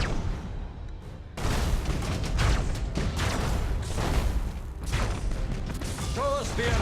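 Torpedo launches and impacts in the space battle game Battlefleet Gothic: Armada II, a sudden roar of booming, rumbling blasts after a quiet lead-in, rolling on loud and dense with a few short tonal chirps near the end.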